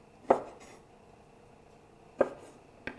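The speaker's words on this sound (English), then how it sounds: "I'm just going to chop up some of these figs." Knife chopping dried figs on a cutting board: two sharp chops about two seconds apart and a lighter tap at the end, close and clear against quiet room tone.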